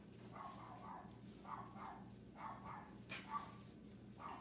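Several dogs bark and yip at a moderate distance in a short, irregular back-and-forth, with soft indoor background hum throughout.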